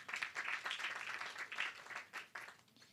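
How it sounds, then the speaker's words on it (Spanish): An audience at a food safety panel event applauds, a dense patter of many hands clapping that rises and falls unevenly, moderately loud with no voices. "Un aplauso, por favor, y bienvenido."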